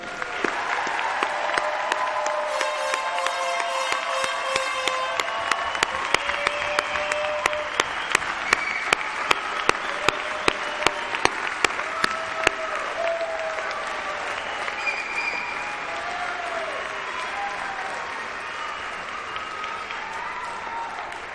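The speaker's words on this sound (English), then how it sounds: "how about one more round of applause for the class of 2016?" A graduation commencement audience at Fitchburg State University gives a sustained round of applause for the class of 2016, dense clapping from a large crowd with a few sharper claps standing out, holding steady for about twenty seconds.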